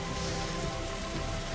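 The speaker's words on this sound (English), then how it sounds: "Just got rain." A continuous downpour from a heavy rain effect in an Unreal Engine 5 horror game, a thick, uniform wash of rain striking surfaces with fine drop detail, no talk over it.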